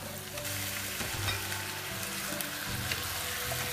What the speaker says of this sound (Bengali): আমার পেঁয়াজটা মোটামুটি ভাজা হয়ে গিয়েছে এখন আমি এর সাথে মাংসটা দিয়ে দিই